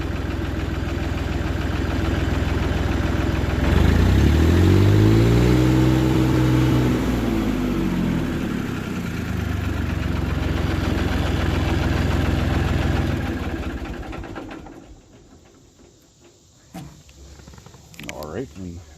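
A 1985 Allis-Chalmers 6140 tractor engine at lowest idle, low and steady, with a deep rumbling chug that holds for most of the clip, then quiets near the end.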